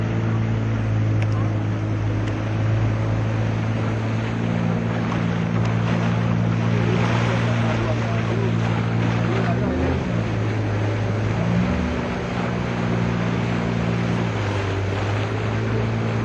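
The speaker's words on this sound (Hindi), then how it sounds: "Aam Aadmi Party Minister Atishi has just taken a ride on a boat in order to review the situation of likely floods in Delhi" Boat ride at a boat club on Delhi floodwater, with a steady motor drone and shifting engine tones under strong wind noise throughout.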